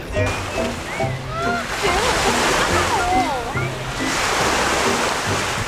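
Waves wash steadily onto the Lake Tahoe shoreline in a continuous loud surf roar, while people talk nearby over the water noise.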